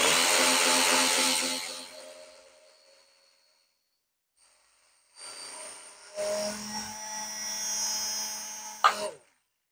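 Silverlit RC Sopwith Camel toy plane's small electric motor whirs loudly, fades to silence, then buzzes back up in stepped bursts as the proportional throttle is raised, ending abruptly.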